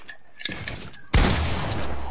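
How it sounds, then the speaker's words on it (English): A pump shotgun fires in Fortnite: one sharp, heavy blast bursts in and rings out over a steady game background, with fainter game sounds just before it. "I love pump shots that do 30."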